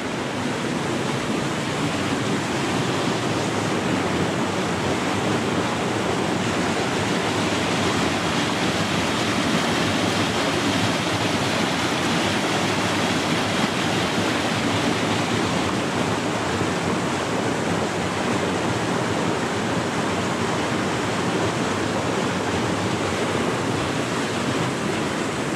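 Floodwater of the River Cherwell pours through fields in a constant, loud, broadband roar and rush, steady throughout with no voices.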